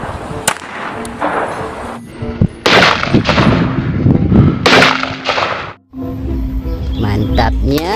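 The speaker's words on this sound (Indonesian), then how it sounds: "tembakan pistol polisi" Police pistol fire, a Beretta, pops in a dinosaur evolution video game amid clattering game effects, with loud repeated shots and bursts over a busy, dense mix.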